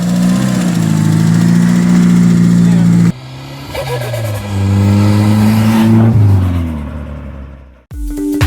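An Austin Maestro van fitted with a swapped 2-litre turbo engine drives along, its engine droning and revving through gear changes, loud and close, then dropping off sharply near the end.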